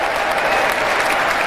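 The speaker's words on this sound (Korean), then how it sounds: "여기서 또 일어나서 많은 사람들이 기립박수를 치고 있습니다" Thick, sustained applause from a large crowd giving a standing ovation at the 47th US presidential inauguration of Trump, loud and continuous with no gaps.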